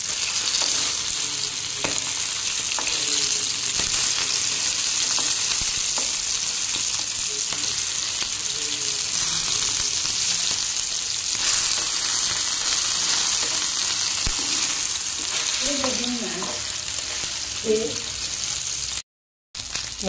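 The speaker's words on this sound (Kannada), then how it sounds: "ನಾನು ಪ್ಲೇನಾಗಿ ಫ್ರೈ ಮಾಡ್ತೇನೆ, ರವೆ ಎಲ್ಲ ಏನು ಹಾಕೋದಿಲ್ಲ." Sardines (bootai) shallow-fry plain in hot oil without any semolina coating, a loud continuous close sizzle that holds steady, with a few faint clinks and brief muffled sounds toward the end and a short dropout.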